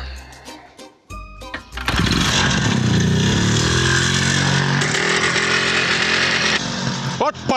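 A motorcycle engine revs up and roars loudly and steadily, with brief clatter beforehand and the sound shifting as the bike pulls off.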